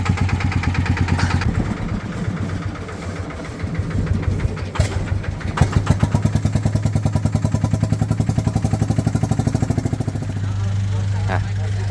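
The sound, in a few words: Yanmar TF120 single-cylinder engine running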